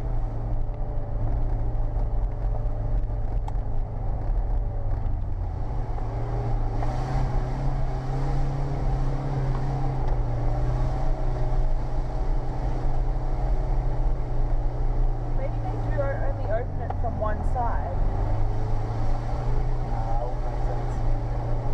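A Subaru driving a wet, muddy track on the Creb Track, heard from inside as a steady loud engine drone with gear changes and rough rumble throughout, with faint talk over it.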